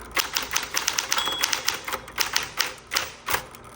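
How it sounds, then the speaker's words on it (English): Rapid keystrokes on a 1960s Electra 120 electric typewriter, a quick irregular run of sharp clacks close up, with no voices. "You just hit that margin release, and then I'm finishing my word, and now I can go to the next line."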